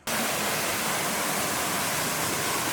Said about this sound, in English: The waterfall was beautiful, and there was a small pool below it that you could go in and cool off.